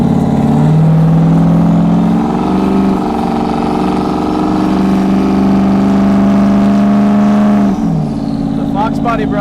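A car engine cruising steadily at about 82 miles an hour and 2,100 RPM, a loud continuous hum filling the whole stretch, shifting pitch slightly near the end.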